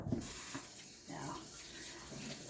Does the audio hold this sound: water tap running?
yes